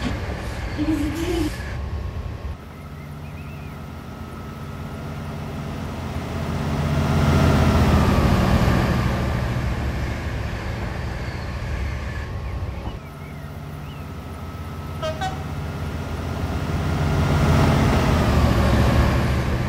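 A Class 67 diesel locomotive in the Train Simulator 2013 game, running around Didcot Yard, gives a continuous heavy engine rumble that swells and eases as it pulls, with a few brief clicks and shifts in tone.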